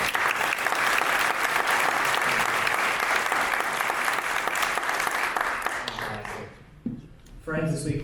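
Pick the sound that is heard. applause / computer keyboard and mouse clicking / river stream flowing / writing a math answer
applause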